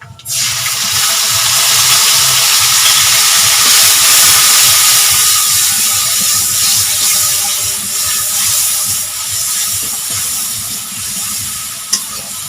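Spice paste tipped into a hot pan of tempering with ginger, bursting into a loud, steady, close sizzle that fills the whole stretch with hissing and faint stirring, no voices.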